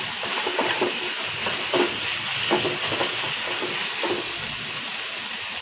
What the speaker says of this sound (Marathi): यात घालायची आपल्या अद्रक लसूणची पेस्ट, छान मिक्स करून घेऊया।